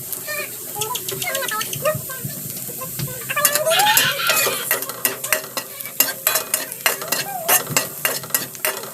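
Garlic stirred and sizzling in a pan, steady frying hiss with a spoon scraping in bursts, close and fairly loud; a rooster clucks faintly in the background.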